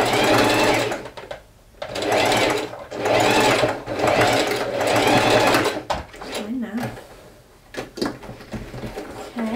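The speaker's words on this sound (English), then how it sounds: "So first we'll need to sew all that together." Sewing machine stitching dress fabric, its motor whirring in several steady bursts with short pauses between, close and loud, followed by quieter handling sounds and a person talking near the end.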